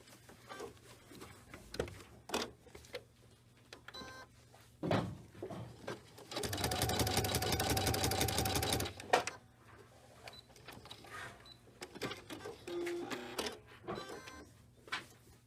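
A sewing machine runs through quilt layers for about three seconds in a steady rapid stitching burst, with scattered handling clicks and rustles of fabric before and after.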